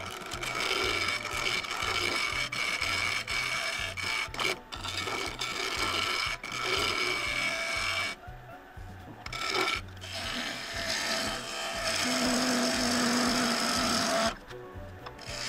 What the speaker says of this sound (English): That noise is another sign that I need to sharpen my tool.